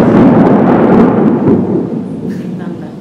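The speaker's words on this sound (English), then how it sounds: "Oh, there's thunder lightning here." Thunder rumbles during an indoor talk, a loud broad low rumble that swells for about a second and a half and then slowly fades.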